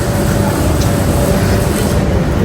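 Train at Batumi Central station bound for Tbilisi, Georgia, a loud steady rumble with a constant hum and broadband noise throughout, no talking.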